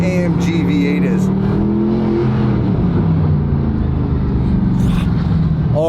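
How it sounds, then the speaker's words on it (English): A naturally aspirated AMG V8 engine revs loudly and continuously with a deep, steady rumble as RPMs are held high, close to the listener, with a voice talking briefly over it. "Listen to how deep that NA AMG V8 is."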